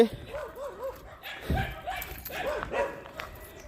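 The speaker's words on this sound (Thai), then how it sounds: "หมาเห่าสนั่นแล้ว" Dogs in a forest bark and yip loudly in short repeated outbursts, with some whimpering, moderately near and over a low background.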